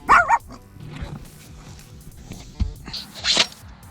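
A trained police detection dog barks in short bursts near a searched Chevy Impala, a couple of sharp barks at the start and a yelp near the end over faint background noise.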